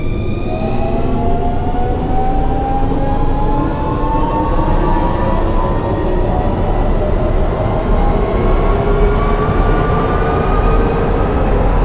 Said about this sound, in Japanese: 2番線から各駅停車新野崎行きが発車します。